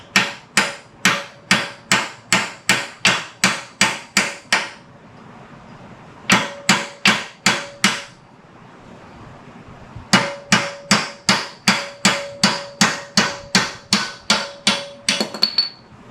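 A hammer drives out the kingpin of an early Ford front straight axle from 1939–1948, loud metallic blows struck in three fast, even runs of about a dozen hits each, with short pauses between them.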